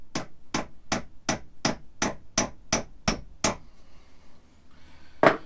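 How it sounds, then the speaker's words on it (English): A small 7-ounce hammer taps decorative tacks into a camper's bathroom curtain in a classic Coachman camper, with about ten crisp, evenly spaced close strikes, a pause, then one final louder knock. "It's a lot easier to just use that little 7-ounce hammer and tap them in"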